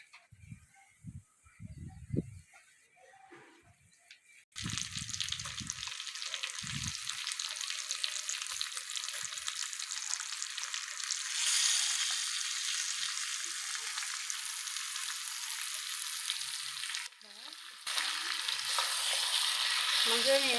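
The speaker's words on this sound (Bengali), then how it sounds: "মাংসটা নেড়ে ছেড়ে নেবো।" Marinated mutton hitting hot oil with fried ginger-garlic, a soft clatter of handling first, then a steady broad sizzle with stirring that briefly dips near the end and resumes, fairly quiet and close.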